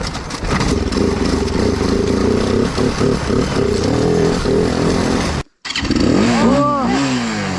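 A Bashan quad engine starting up and being revved hard, loud and close, with a rough buzzing idle, a brief cutout, then rising and falling throttle sweeps.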